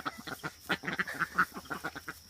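A drake duck with a muddy bill, kept with a backyard flock near a new coop, gives a quick, steady run of quacks, about a dozen in a row, fairly faint and with no talk over them.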